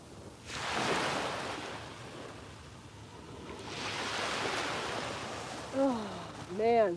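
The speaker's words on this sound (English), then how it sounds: "the sounds of the beautiful waves" Ocean waves wash in two long, broad swells of surf noise, steady and moderately loud, before a voice starts talking near the end.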